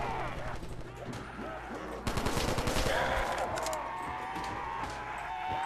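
Upgraded guns firing in a zombie video game, dense bursts of rapid shots that swell louder midway and keep chattering under a steady game backdrop.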